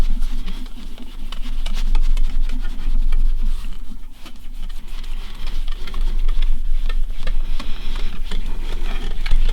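A hand rubs lacquer on a Gibson Mastertone banjo neck, giving a continuous, close, soft scrubbing and friction sound with small rhythmic strokes and faint clicks throughout.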